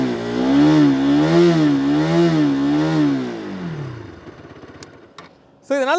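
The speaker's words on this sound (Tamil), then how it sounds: "இந்த பைக்கோட சைலன்சர் நோட் வந்து எப்படி இருக்குது அப்படிங்கிறத நம்ம பார்க்கலாம்." A Bajaj Pulsar RS200 motorcycle exhaust hums in a low, rhythmic rise and fall as the engine revs, then fades and settles before a voice briefly cuts in at the end.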